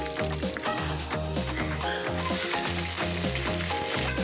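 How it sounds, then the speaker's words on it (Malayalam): Dried chili, curry leaves and crushed garlic fry in a pan for a Tamil Nadu country chicken curry, giving a steady broadband sizzle heard under loud rhythmic music throughout. "വറ്റൽമുളക് കറിവേപ്പില വെളുത്തുള്ളി ചതച്ചത് പിന്നെ രമ്പയില ഇതെല്ലാം കൂടെ നല്ലോണം മിക്സ് ചെയ്ത് യോജിച്ചെടുക്കും"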